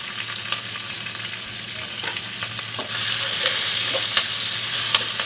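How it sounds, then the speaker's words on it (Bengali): Chopped onion, chili and garlic fry in a pan with a loud, steady sizzle that swells partway through, punctuated by light ticks and scrapes of stirring. "এখন এখানে আমি কেটে রাখা পেঁয়াজ মরিচ আর রসুন দিয়ে দিচ্ছি"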